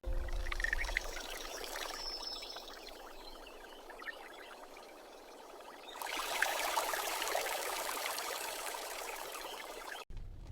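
Water pours and trickles as an armored dinosaur wades across a river, a soft continuous stream that swells louder in the second half, with no voices.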